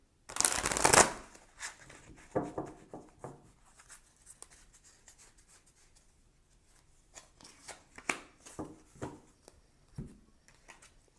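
Tarot cards shuffled during a reading: a loud, brisk riffle burst up front, then softer intermittent rustles and slides of cards handled nearby, with no talking.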